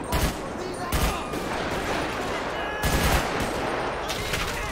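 Gunfire from the LSPDFR police mod in GTA V: several sharp shots in bursts, two clustered near the start and another around the three-second mark, over a steady game background with talk.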